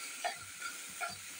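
Grated carrot and capsicum fry in a pan with a steady soft sizzle, broken by a couple of brief stirring scrapes, no talking.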